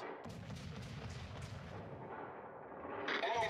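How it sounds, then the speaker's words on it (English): Naval artillery fire in the World of Warships video game: a run of heavy, rumbling gun booms rolling into one another, moderately loud and sustained, with a brighter burst near the end. "All stations requesting fire on the designated target."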